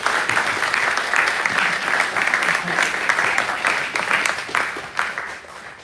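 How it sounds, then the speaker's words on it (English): Steady, dense applause from a large audience at a youth justice fundraiser, welcoming a speaker onto the stage; continuous clapping at an even loudness throughout, with no voices rising above it. "Now let's give a round of applause to welcome him."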